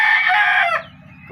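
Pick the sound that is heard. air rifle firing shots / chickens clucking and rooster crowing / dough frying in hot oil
chickens clucking and rooster crowing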